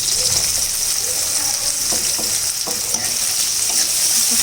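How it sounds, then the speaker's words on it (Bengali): Chilies and garlic frying in hot oil, giving a loud, continuous sizzle with scattered crackles and pops, close up. "গরম হয়ে গেছে, এখন মরিচগুলো দিয়ে দেবো। রসুনগুলো দিয়ে দেবো,"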